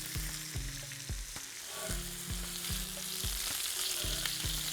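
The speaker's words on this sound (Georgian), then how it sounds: "და გადაგვაქვს გრილზე." A beef steak sizzles and fries on a hot grill, a soft continuous crackle and hiss under a faint regular low clicking pattern, heard alone without talk.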